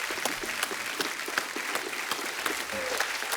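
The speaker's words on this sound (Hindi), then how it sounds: "एक बार जोरदार तालियां हो जाएं।" A television comedy show studio audience applauds loudly and continuously, a dense, close wash of many hands clapping with no pauses across the short stretch.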